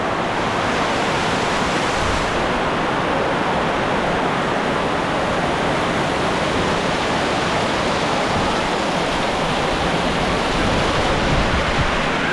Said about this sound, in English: it is absolutely torrential out there